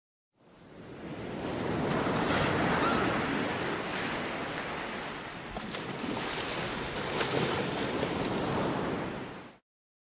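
Lake waves wash and surge in a continuous, loud broadband rush with slow swells and no break, heard alone without voices.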